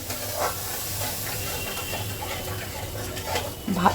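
A yogurt curry simmers over a low gas flame, giving a soft continuous hiss with faint spatula strokes, a low background hum and a brief clatter near the end.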